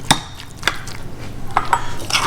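Guacamole being stirred and mixed in a bowl, with a few sharp utensil clinks against the bowl spaced irregularly over soft scraping, close and moderately loud, no talking.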